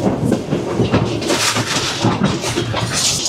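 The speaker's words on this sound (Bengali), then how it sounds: "ছেড়ে দিল আমাদের ট্রেন কলম্বো ফোর্ট স্টেশন" A train pulls out of Colombo Fort station on the Colombo to Galle line in Sri Lanka, its loud steady rumble and clickety-clack of wheels on rail filling the carriage with no talk.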